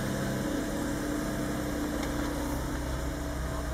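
A car with automatic transmission sits idling, its engine giving a steady, even low hum that holds unchanged throughout with no voices over it.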